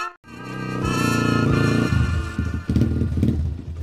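A motorcycle runs loud and close, its engine droning steadily with a rising whine and then rougher, uneven bursts as it changes pace.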